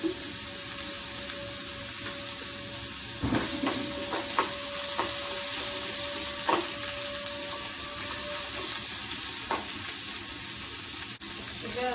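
Chopped capsicum stir-fried in a pan, a steady near sizzle with occasional utensil taps and scrapes against the pan as it is stirred, with no voices.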